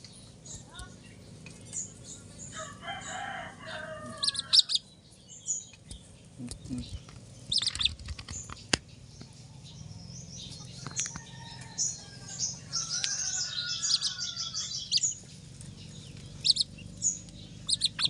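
A small bird gives faint, scattered chirps and squeaks, with soft pecking and handling noises nearby.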